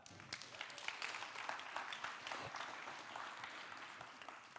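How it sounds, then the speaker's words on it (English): An audience at a youth leadership conference breaks into sustained applause, dense and fairly distant, with scattered cheers and voices blending into the clapping. "Clap it up for that."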